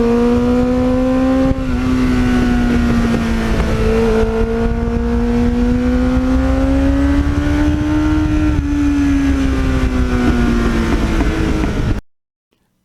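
A restored Kawasaki Ninja GPX750R motorcycle idles and revs steadily through an aftermarket Muzzy exhaust, a deep, growling tone that rises and falls slightly, loud and close, then cuts off abruptly.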